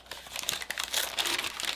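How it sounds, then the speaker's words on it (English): Plastic packaging around an Elgato USB hub crinkles and crackles close up in continuous rustling for under two seconds, with no voices. "let me go ahead and unwrap this so we can take a good look at what this looks"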